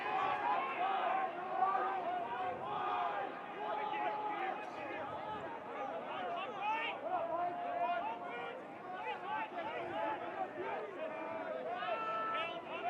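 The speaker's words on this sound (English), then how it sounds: "You can hear both of the benches and then the crowd across the way in the east stands." Voices from both team benches and the crowd in the east stands at a college lacrosse game between Colorado and Colorado State. Distant shouts and chatter overlap in a steady hum that rises and falls, and individual calls stand out now and then.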